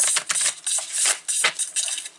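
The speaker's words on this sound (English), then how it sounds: "Come on, Jane, shuffle those cards." Tarot cards being shuffled by hand, a quick run of crisp papery riffles and clicks in short bursts, close and fairly quiet with no voices.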